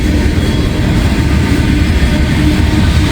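A CSX freight train rolls loudly along the rails nearby, a dense, continuous rumble of wheels and cars with no break.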